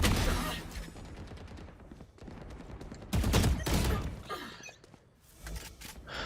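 Rapid gunfire in a Valorant match, with bursts of shots and sharp cracks dense throughout a noisy mix, louder around the middle, under faint background voices.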